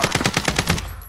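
Automatic gunfire in a Call of Duty quads battle royale match: a loud, sustained burst of about eight rapid, evenly spaced shots, heard alone without voices.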